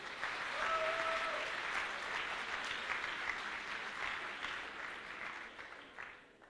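Spectators at the Swiss Fantasy Show 2018 cosplay contest clap for a costumed contestant in a sustained, even round of applause that gradually thins and fades toward the end.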